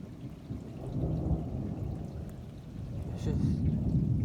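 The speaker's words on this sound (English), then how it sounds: "Just thunder everywhere." Deep rolling thunder rumbles continuously through a severe thunderstorm, loud and close, with rain noise underneath and no talking.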